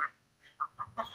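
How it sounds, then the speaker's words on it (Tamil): A show chicken, a fancy ornamental breed at a Thai aquarium market, gives several short clucks, one faint then three distinct ones spaced about a fifth of a second apart, fairly close with no talking. "இது ஷோ சிக்கன் ஃபேஷன் கோழி."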